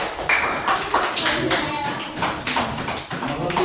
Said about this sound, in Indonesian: Betul, tepuk tangan dulu buat Jaga.